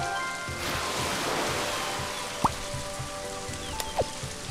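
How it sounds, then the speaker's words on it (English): Rain falls from a rain cloud in the video game Scribblenauts Unlimited, a steady hiss of rainfall with a couple of brief chirpy game tones cutting through near the end. "How about a rain cloud?"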